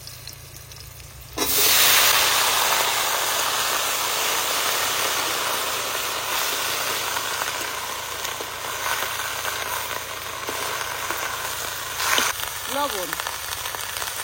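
Cumin, slit green chillies and spring onion leaves go into hot oil left over from frying fish in a village kitchen, setting off a sudden loud sizzle that settles into a steady, crackling hiss as a voice speaks briefly.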